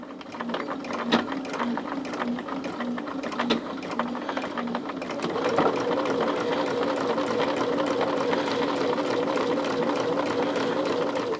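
An embroidery sewing machine stitching a snappy bag project in the hoop, running with a rapid rhythmic needle clatter that settles into a steadier, denser mechanical whir partway through.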